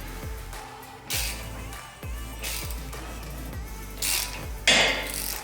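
Ratchet driving a bolt into a threaded hole to push a 2015+ Subaru WRX brake rotor off the hub: repeated close clicking strokes in uneven bursts, with brief louder metallic knocks.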